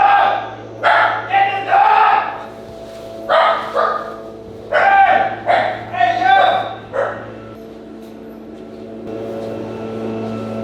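A big dog gives a string of loud, close barks in irregular bursts, then falls quiet, over a steady low hum in a barbershop setting.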